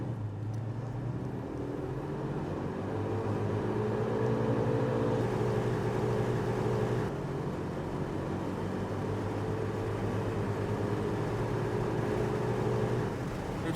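A 1985 Chevrolet Monte Carlo SS engine pulls steadily as the car accelerates through a couple of gears, a continuous droning hum heard from inside the cabin that rises in pitch, drops briefly at a shift, then climbs again.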